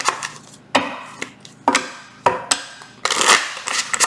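Tarot cards being shuffled by hand in a series of sharp riffles and slaps, each burst separated by short pauses, with a longer final flurry at the end; no one speaks.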